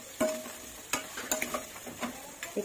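Chicken frying in a pan over a lowered gas flame, with a soft sizzle under irregular clicks and scrapes as the pieces are stirred, heard close.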